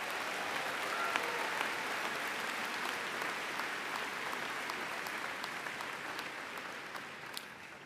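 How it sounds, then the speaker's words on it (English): Sustained audience applause fills a commencement ceremony at Denison University, a dense, steady wash of many hands clapping that holds strong throughout and tapers only slightly near the end. "Can we give them one more round of applause?"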